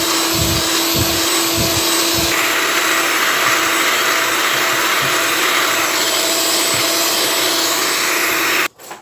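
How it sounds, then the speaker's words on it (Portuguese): An electric mixer beats sugar, oil and margarine for a cornmeal cake, a loud steady whirring drone with a few low thumps early on, then cutting off abruptly near the end. "Vem com a batedeira e bato."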